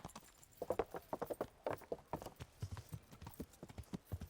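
Horse hooves clip-clop in a brisk, steady rhythm, close and fairly clear, with no talking over them, in the video game Kingdom Come: Deliverance.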